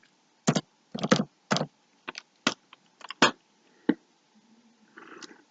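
Keystrokes on a computer keyboard, several short bursts and isolated clicks spread across a few seconds, close and moderately loud, with a faint low murmur near the end.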